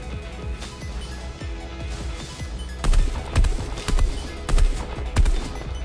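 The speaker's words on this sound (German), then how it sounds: "Habe ich nicht Schüsse auf mich zukommen sehen?" Gunfire from the Fortnite video game: a run of fast, sharp shots in rapid bursts, with heavier, louder cracks coming in a regular rhythm during the latter half, and no talk over them.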